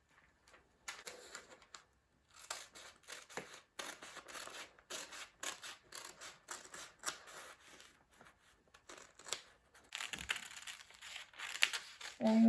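Scissors cutting fabric for a sleeve top, a run of close crisp snipping and rustling strokes in uneven bursts, with brief pauses and a denser stretch of cuts toward the end.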